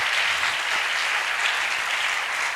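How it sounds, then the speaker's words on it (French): A church congregation applauds loudly and steadily after a prayer, a dense, sustained wash of clapping that fills the room without a break. "Et le peuple du Seigneur dit Amen en acclamant encore très, très, très, très, très fort"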